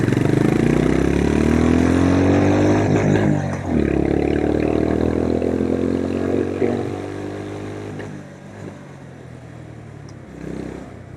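A 2026 Honda CB350 RS motorcycle engine accelerating while riding in second gear, a loud close rising drone that climbs in pitch, drops briefly and climbs again, then eases off toward the end.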